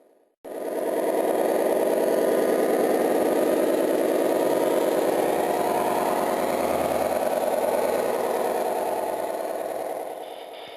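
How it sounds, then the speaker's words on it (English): Sound system of a large model diesel locomotive built from an Aristo short block, producing a steady loud engine rumble with a throbbing idle that starts abruptly and runs continuously, close and alone. "This was my first larger diesel, Aristo short block at one end, and a very complicated sound system."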